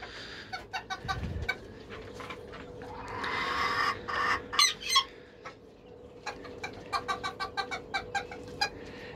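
A young black Serama rooster and a hen, close by, give clucking and scratchy rhythmic calls in uneven bursts with a brief louder flurry midway.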